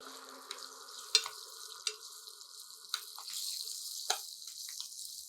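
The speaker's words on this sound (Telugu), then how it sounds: "కొద్దిగా పచ్చిమిర్చి వేగనివ్వండి" Green chillies frying in hot oil for a tempering, heard as a steady close sizzle with a few sharp crackles and pops scattered through, no talking.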